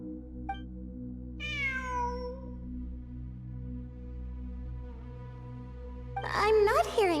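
A cat in Genshin Impact gives a single drawn-out, falling meow, then a second high, wavering meow, over a steady low game hum.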